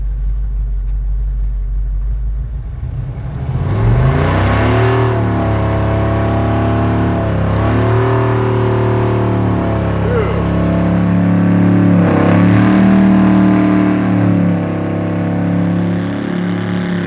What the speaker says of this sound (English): Burnout? Yeah, why not? I mean, you did put a line lock on here.